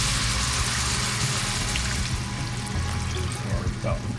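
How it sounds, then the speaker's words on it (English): White wine, a Pinot Grigio, is poured into a hot pan while shrimp scampi cooks, a steady liquid pour with a sizzling wash that carries on for several seconds, faint voices murmuring underneath. "And then you're going to add your white wine of choice."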